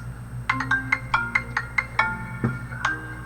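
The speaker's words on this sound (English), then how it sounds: "why am I getting phone calls?" A phone rings with an incoming call, its ringtone a rapid run of bright, evenly spaced electronic beeps, steady and fairly loud, with no one speaking.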